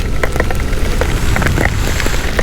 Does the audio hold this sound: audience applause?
no